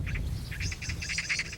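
A magpie confronting an eagle (cinereous vulture) that has entered its territory gives repeated harsh, chattering calls in short bursts over a steady low outdoor rumble.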